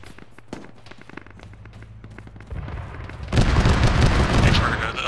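Explosions in a military shooter game, with sporadic distant pops that give way to a heavy, rumbling blast and then a loud, continuous roar of detonations that keeps going to the end.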